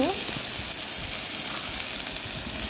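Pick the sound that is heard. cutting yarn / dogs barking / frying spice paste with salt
frying spice paste with salt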